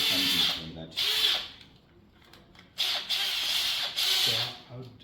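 A handheld power drill runs in several short bursts, whining loudly between quiet pauses, with voices faintly audible underneath.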